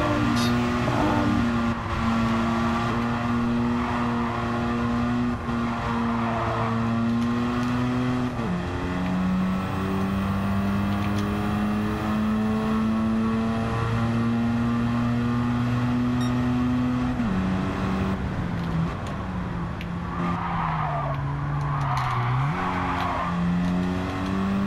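A Mazda RX-7 rotary engine revs high and holds a sustained buzzing whine, its pitch stepping up and down through gear changes over a long stretch, with faint tire noise and no talk.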